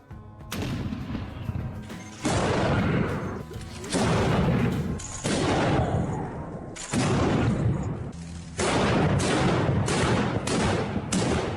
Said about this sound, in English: So, what is the power of this large caliber matchlock gun? Let's fire a few rounds and see the effect.